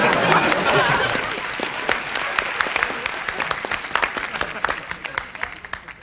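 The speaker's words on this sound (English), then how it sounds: "Keep up the clapping!" A television studio audience applauds on a comedy talk-show set, a dense, loud wash of clapping that slowly thins into separate sharp claps over about six seconds.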